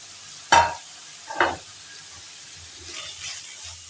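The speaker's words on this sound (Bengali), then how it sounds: "লো ফ্লেমেই কিন্তু গ্রেট করা গাজরটাকে ঢেকে ঢেকে ভাজা করব" Grated carrots for carrot halwa fry over a low flame in a pan, with two sharp loud stirring scrapes and sizzles early on, then quieter, softer sizzling bursts.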